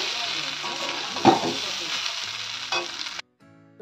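Pasta seasoned with garam masala stirred in a frying pan, a bright hissing sizzle with a few scraping spoon strokes that cuts off abruptly near the end, no speech.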